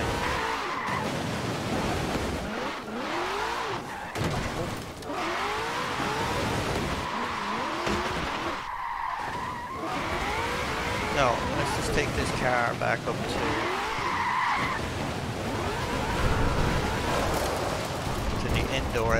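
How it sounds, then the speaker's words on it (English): A 1968 Mustang GT drifting through snow in Forza Horizon 4, with continuous engine drone, skidding and tire hiss as the car slides for about twenty seconds, under frequent talk. "You hear the snow going up into the back of the car, but look at that, it's just slipping away."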